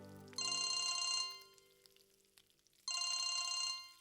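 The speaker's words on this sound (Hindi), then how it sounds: "मनु, वीरेन जी का फोन है।" A telephone bell rings in two loud trilling bursts about two seconds apart in a quiet indoor room.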